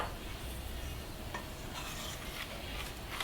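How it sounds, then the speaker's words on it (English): Black sesame seeds gently stirred into batter for Goan rose cookies (kokkisam), giving a soft, steady scraping swirl at close range with a faint background hiss and no talking. "And just a gentle stir through."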